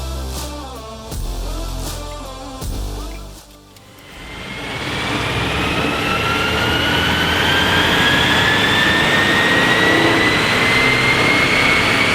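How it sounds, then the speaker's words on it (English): A Volvo V40 on a dyno for a remap, its engine climbing from a lower rumble into a loud, sustained roar with a rising whine as revs build steadily toward the end. "today on our dyno we've got this Volvo V40 in for a Remap and Dyno"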